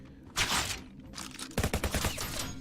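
Bursts of submachine gun fire from a hellish weapon in the video game Revulsion, with two loud rapid volleys, the second broken into quick distinct shots, and a short pause between them.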